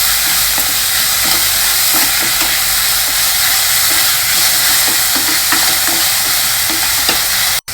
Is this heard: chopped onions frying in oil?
yes